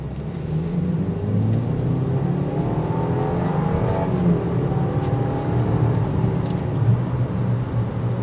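A 2023 Land Rover Discovery S accelerates on the road, its engine note rising and swelling steadily under a constant wash of road and tyre noise, heard from inside with no talking.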